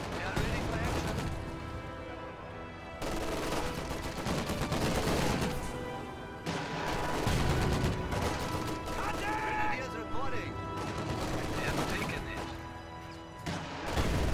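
Gunfire and explosions from a real-time strategy video game battle rattle in bursts, heavy impacts and crackling shots separated by brief lulls, with a voice talking over the action.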